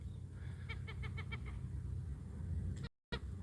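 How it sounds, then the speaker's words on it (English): Ring-billed gull calling, a quick series of short nasal yelps in a rapid run, then a couple more cries, faint and somewhat distant over a low background rumble. "that's a ring-billed gull right there."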